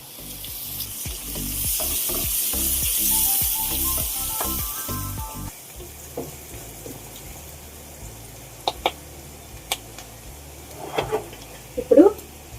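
Onions fry in a pan with turmeric and curry leaves, a loud sizzle at first that settles into quieter crackling, with occasional stirring clinks and scrapes near the end.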